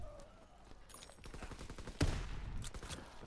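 Shotgun fire in the video game Call of Duty: WW2, a few sharp blasts with rapid rattling bursts between them, the loudest shot landing about two-thirds of the way through, fairly faint overall.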